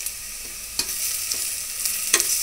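Garlic-ginger paste fries with onions for egg biryani, a continuous close sizzle with three or four sharp spatula taps and stirs scattered across a couple of seconds, no talking.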